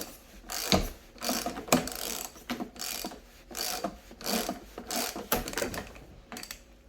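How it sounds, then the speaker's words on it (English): A screw being unscrewed from the front end of a DIY ebike, heard as a series of rhythmic ratcheting clicks from a hand tool, about a dozen close bursts at an even pace. "So let's go ahead and get this screw off."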